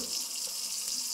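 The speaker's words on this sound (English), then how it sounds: "And we want to fill the bowl up with water." Tap water runs steadily into a bowl set under a strainer, a constant close hiss with no talking.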